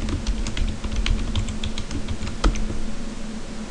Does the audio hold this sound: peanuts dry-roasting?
no